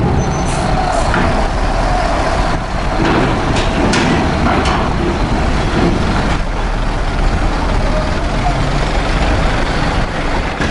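A bus engine on what seems a 1526 chassis drones loud and steady from inside the cabin, with a brief hiss of air brakes and faint background voices.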